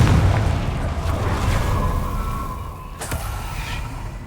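A Confringo spell blast in the Hogwarts Legacy video game gives a loud, rumbling boom with a sustained roar that fades slowly, plus a sharp crack near the three-second mark.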